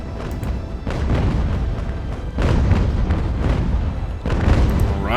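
Sailing warships trade cannon fire in an Age of Sail naval battle off San Juan: deep rolling booms overlap one after another in a continuous loud barrage, with heavy low rumble and no voices.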